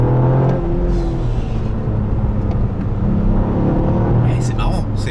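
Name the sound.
Toyota GR Yaris driving, front wheels slipping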